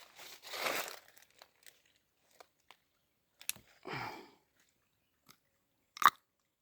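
Crunchy food bitten and chewed up close at a forest campsite at night, a few short crisp crunching bursts separated by silence, with scattered small clicks and one sharp final crunch; no talking.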